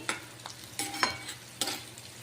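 Green chillies, garlic and cashews frying in oil for rajma curry: a quiet sizzle under a few sharp scraping stirs of a spoon in the pan, close and without talk.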